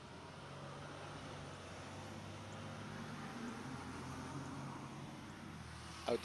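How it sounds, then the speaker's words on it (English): A truck passes along the road outside as a steady, moderately loud roadway rumble that holds through the clip, with a brief knock near the end. "I wanted the truck to go by"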